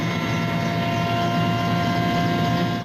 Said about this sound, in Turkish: Hava karardığında nöbeti gece görüşlü 4 Sikorsky helikopter devraldı.